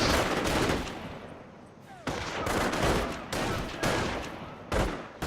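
Machine gun fire in the World War II strategy game Company of Heroes, a 2vs2 match: dense, sustained bursts of automatic gunfire with sharp renewed volleys every second or so, loud and continuous.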